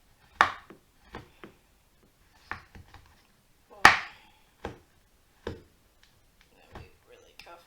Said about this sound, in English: I just feel I can cut it faster than I can grate it.